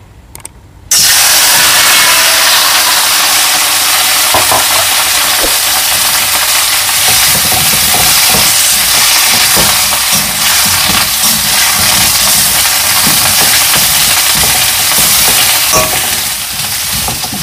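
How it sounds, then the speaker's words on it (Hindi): Cauliflower hits hot mustard oil in a pan and bursts into a loud, steady sizzle close by, with constant crackling and spitting after a brief quiet start, for a Pahadi aloo gobi dish. "ऑयल हमारा अच्छे से गर्म हो गया है। अब हम इसमें डालेंगे गोभी को"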